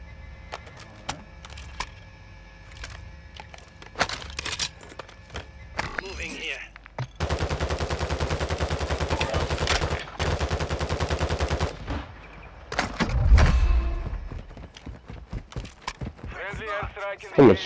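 Gunfire in Warzone 2, single shots early on followed by a long sustained burst of rapid automatic fire, then more scattered shots, with a player talking in between.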